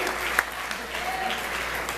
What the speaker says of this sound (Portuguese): Começa a aplaudir.